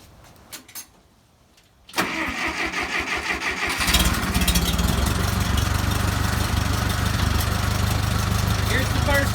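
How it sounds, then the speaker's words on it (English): An old tractor engine cranks over and starts at about two seconds, then runs in a steady, loud idle that grows fuller after a few seconds and keeps chugging close by to the end. "This is my grandfather's tractor."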